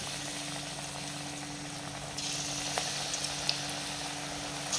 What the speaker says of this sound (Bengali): আর দিকে তেল তো গরম হয়ে গেছে, তেল দিয়ে দিয়েছি। এখন এক এক করে বড়াগুলো ছেড়ে দেবো।